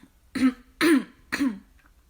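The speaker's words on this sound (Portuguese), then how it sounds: "A gente tá com uma tosse." Three short, throaty coughs in quick succession, close and fairly loud, with brief pauses between them and quiet afterward.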